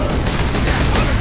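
In the Warhammer 40k Space Marine video game, a loud, dense burst of continuous gunfire fills a brief moment with no letup.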